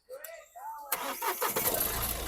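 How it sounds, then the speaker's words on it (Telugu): A 2016 Mahindra TUV300 T6 diesel engine cranks and fires on a single start, then settles into a steady, smooth idle; a voice is heard just before it turns over. "సింగిల్ సెల్ఫ్లో బండి స్టార్ట్ అవుతుంది"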